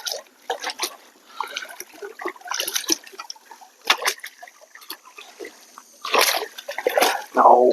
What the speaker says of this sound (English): You do all that splashing, that's how they come off